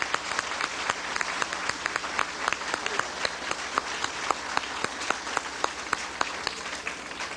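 An audience applauds steadily for Dr. Arthur C. Clarke at a birthday presentation on the Galileo mission to Jupiter, a mid-distance crowd of claps with sharp individual hand strikes standing out.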